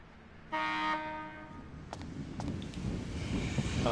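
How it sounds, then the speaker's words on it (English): A train horn in the video game Dark Cloud 2 sounds one short, loud, bright blast, then a rushing rumble with a few clanks builds steadily. "That was a car horn."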